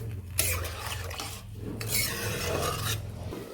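A chicken gizzard and liver curry is stirred in a pan, giving a steady rasping scrape of a spoon against the metal with a soft simmer beneath, continuous and close for a few seconds.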